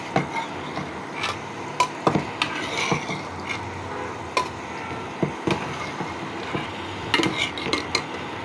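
Pangas fish curry being gently stirred in a pan, with soft scattered scrapes and clinks of a utensil against the pan at an irregular pace, close by and fairly quiet, with no one talking.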